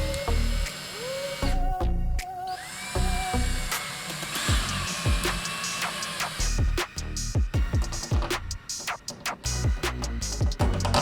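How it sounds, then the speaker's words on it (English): A power drill drives screws partway into a wall to hang an IKEA Skådis pegboard rail, in short whining bursts that rise and fall in pitch, separated by brief pauses and handling clatter. "This time he drove the screws partially into the wall before putting the rail on."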